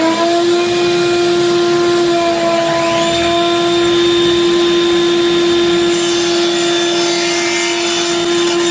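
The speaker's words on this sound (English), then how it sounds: "Put my dust collector on, and honestly, by dust collector, I mean my shop vac" A shop vacuum running as a woodshop dust collector, a loud steady close whine with a strong constant hum and a rising pitch sweep partway through, with no speech.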